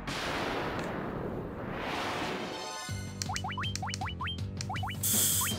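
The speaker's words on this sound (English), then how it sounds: "Their unarmed attacks just patapa, patapa, patapa." Unarmed punching attacks in the PSP Final Fantasy, a run of quick, light chiptune-style hits with rising boing-like tones arriving in a fast patter after a softer opening, up close and clear.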